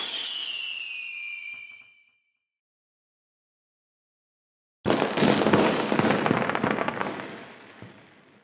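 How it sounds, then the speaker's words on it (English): A firework bursts in a distant sky over a crowd, a sudden loud blast followed by several crackling pops and a fading rumble, preceded by a high whistling tone and a long silent gap. "the worst firework exploded in the distant sky, igniting cheers from the crowds"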